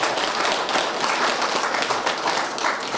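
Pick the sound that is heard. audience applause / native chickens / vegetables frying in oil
audience applause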